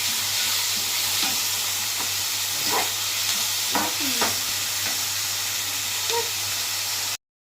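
Onions sauté in a hot pan, a steady broad sizzle with a few soft scraping stirs, close and continuous, with no voices, before cutting off abruptly near the end.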